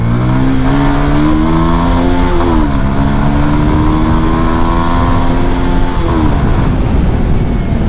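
Modified 2018 BS4 Bajaj Pulsar 220 motorcycle with full fairing accelerating hard, its loud steady engine note climbing in pitch through two gear shifts, close and continuous with no talk.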